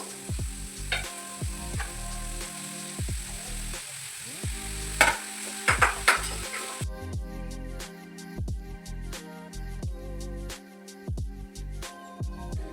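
Mushroom and soybean sizzle in a hot pan while a spoon stirs and scrapes repeatedly, giving soft clatters over a steady crackle close by.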